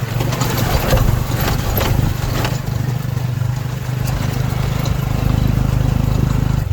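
A tuk-tuk engine drones steadily on a dusty road near Angkor Wat in Siem Reap, Cambodia, a loud continuous low rumble with rattling vibration close by throughout.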